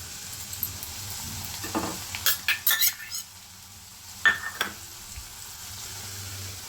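Crushed garlic and turmeric drop into onions frying in hot oil for a bitter gourd fry, with a spoon clinking and stirring against the pan over a low steady sizzle, close by.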